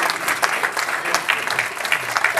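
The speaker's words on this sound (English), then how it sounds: "Please join me in giving a nice round of applause to our panelists." A seated audience at a healthcare financing event claps for the panelists, a dense, even round of applause from many hands, loud and close, lasting a couple of seconds without a break.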